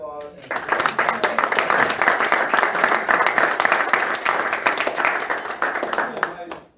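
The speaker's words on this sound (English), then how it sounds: "I want you to give our panel a round of applause." An audience at a Medicare for All forum in Milwaukee breaks into loud, dense applause for the panel, sustained and even, tapering off at the very end.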